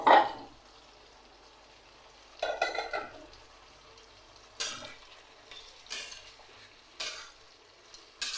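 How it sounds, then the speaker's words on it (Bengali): Fried potatoes are stirred into a pan with a paste of onion, ginger, coriander and cumin for a snakehead fish curry, giving a few separate scraping bursts with a soft sizzle between them. "ভাজা আলুটা দিয়ে দিচ্ছি।"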